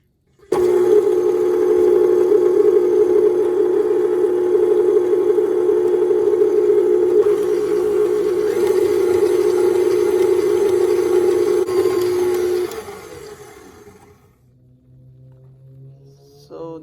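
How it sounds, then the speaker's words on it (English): Stand mixer whirring as it blends chickpea flour with water, a loud, steady motor hum with a constant pitch, running continuously for about twelve seconds before winding down and fading to quiet. "I'm adding half a cup of chickpea flour to the stand mixer."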